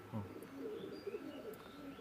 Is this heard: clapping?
no